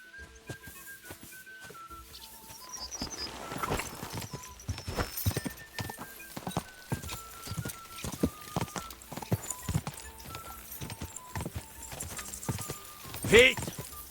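Horse hooves clip-clopping at pace in the video game Kingdom Come: Deliverance II, a steady rhythmic run of hoofbeats with an occasional snort or whinny, moderately loud and close.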